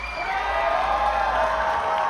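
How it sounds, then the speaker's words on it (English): Audience at the VSAUCI Rose Pageant 2026 applauding and cheering, a dense, steady wash of clapping and crowd noise that holds loud and continuous without a break. "Can we get a round of applause?"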